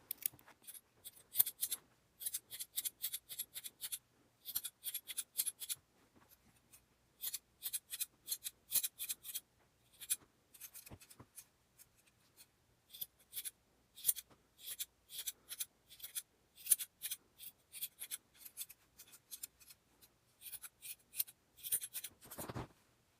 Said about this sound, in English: we're going to pick up our scissors, and we're just going to start trimming